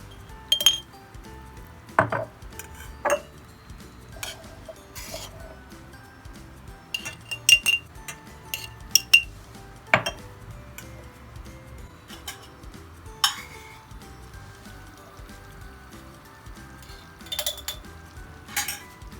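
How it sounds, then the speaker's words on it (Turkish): Spoon clinking against glass jars while they are filled for home-canned winter tomato preserves, bright scattered taps and clinks of metal on glass at an irregular pace over quiet kitchen background. "Kavanozlarımızın dibine birer kaşık koyuyoruz."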